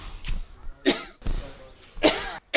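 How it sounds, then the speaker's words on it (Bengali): A woman coughing, three separate harsh coughs spaced about a second apart, close and fairly loud, with quiet gaps between them. "তোমার কি হয়েছে? কাশতেছো কেন?"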